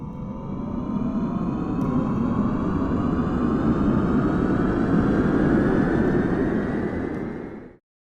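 An airplane engine roars in a steady, loud, rumbling drone with a slowly rising whine that lasts several seconds before cutting off abruptly.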